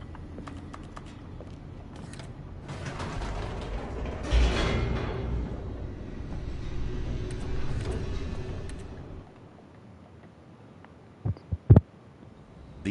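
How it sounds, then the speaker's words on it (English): A descending elevator in The Stanley Parable gives a steady, low mechanical rumble that swells for several seconds, then cuts out, leaving near-silence broken by a few sharp clunks. "The elevator raced downward,"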